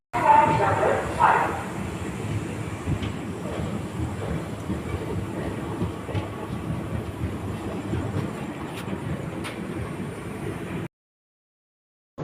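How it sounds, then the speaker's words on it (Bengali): The Gour Express passenger train runs after pulling out of Bardhaman Junction, a steady rumbling roar of wheels and carriage noise with faint rhythmic clatter heard from inside, continuing evenly before cutting off near the end. "ট্রেন ছেড়ে দিল বর্ধমান জংশন"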